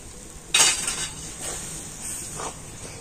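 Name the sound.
stirring flour and semolina into palm pulp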